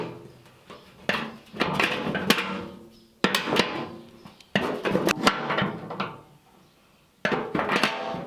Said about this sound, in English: I'm going to use the wrenches to tighten these up so that they hold together better.